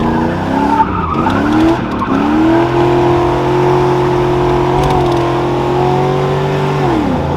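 LS-swapped G-body car launching hard in first gear, engine roaring loud and close with rising revs and screeching tire squeal, then holding a steady high drone before easing off.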